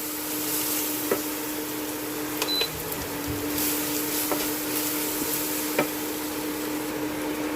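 A spice mix is stirred and fried in a pan, giving an even hiss of frying punctuated by a few sharp clicks of the spoon against the pan.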